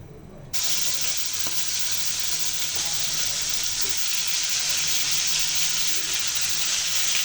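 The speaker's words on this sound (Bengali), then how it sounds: "মাছগুলো ভাজার জন্য একটা প্যানে তেল গরম করে নিয়েছি" Pangas fish frying in hot oil in a pan gives a loud, steady sizzle that begins abruptly after a brief quiet moment and continues evenly with no one speaking.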